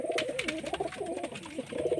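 A red Murshidabad-line Giribaz pigeon coos close by in repeated wavering, throaty rolls that run continuously through the moment.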